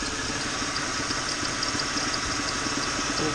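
A Ford Mustang with a 3.8 liter V6 idles steadily, a continuous close engine rumble with a slight knocking texture and no talk over it.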